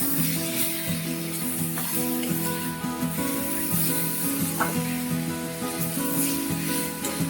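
Spices with sugar sauté in hot oil in a pan for a soya chunk curry, a constant crackling sizzle with occasional stirring scrapes, close and steady, with no talk.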